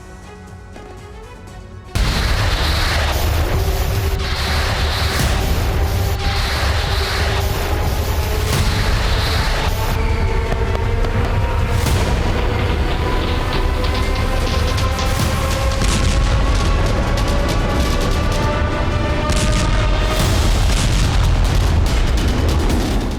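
A Ukrainian drone strike explodes at the Voronezh nuclear power plant, hitting near a cooling tower: a loud, sustained roar bursts in after a quiet start and keeps rumbling heavily with crackling, boom-like energy throughout.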